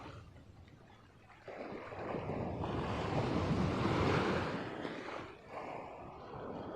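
Sea waves surge and wash along the shore during fishing at Munting Mapino in Naic, Cavite. A loud broadband roar swells mid-clip, then eases, with wind buffeting the microphone and no one talking.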